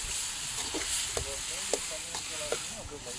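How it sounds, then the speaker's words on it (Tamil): Chicken feet frying in a tomato gravy while being stirred give a steady close sizzle, with scraping and knocking strokes of the spoon at intervals. "நம்ம பால்ராஜ் தான் இன்னைக்கு வறுவலுக்கு எல்லாம் போட்டு கிண்டிகிட்டு இருக்கிறாரு"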